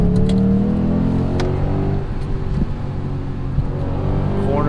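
Car accelerating hard on a drive, its engine note climbing then dropping through a gear change before rising again, loud and close throughout with steady road roar.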